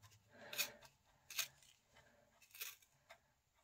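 Scissors cut through a thick bundle of yarn while making a pom-pom, giving three or four short, rasping snips spaced about a second apart, quiet and close with no talking.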